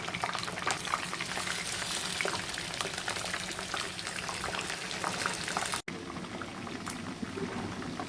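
Chicken pieces fry in hot oil in a pan for morog polao, a loud, steady crackling sizzle that runs without a break, with a brief drop near the end before it resumes.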